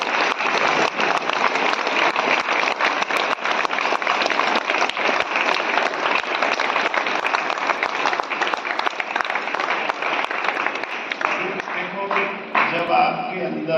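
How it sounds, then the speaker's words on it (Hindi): Students clapping together in a school assembly outdoors, a dense, sustained round of applause lasting over ten seconds before thinning out into scattered claps near the end. "एक बार ताली बजा दो अपनी।"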